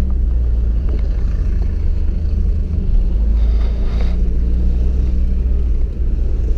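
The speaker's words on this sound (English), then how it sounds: "Now I'm on 3rd gear and no any problem going uphill here." A 1991 BMW 525i E34 climbs a hill in third gear at low revs, its engine a deep, steady drone heard from inside the car with heavy road and wind rumble. The sound is loud and continuous, and no one talks.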